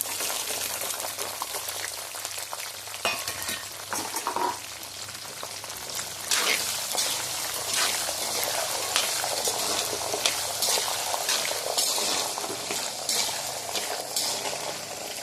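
Garlic sautéing and being stirred in a hot pan with oil, a steady crackling sizzle with occasional spoon scrapes and bursts throughout, close and moderately loud with no talking.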